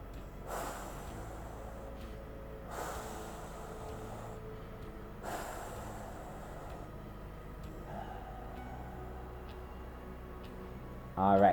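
Three sharp nasal inhales come at regular intervals during a singing breathing exercise, each a brief rushing sniff over a quiet, faintly humming background.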